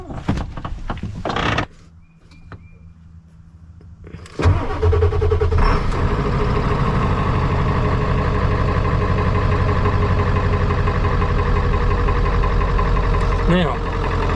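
A 1996 Ford F250 Powerstroke diesel truck cranks briefly, then catches and settles into a loud, steady diesel idle close by, with a short clatter near the end.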